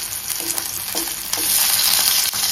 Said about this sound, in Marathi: आपलं पहिलं पॉपलेट तेलामध्ये गेलेलं आहे फ्राय होण्यासाठी